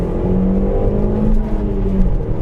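A first-generation Audi S3 (8L) with a turbocharged engine pulls hard under acceleration, its close, loud engine note climbing and rising in pitch over a couple of seconds.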